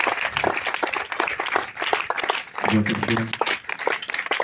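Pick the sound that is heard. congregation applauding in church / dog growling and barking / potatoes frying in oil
congregation applauding in church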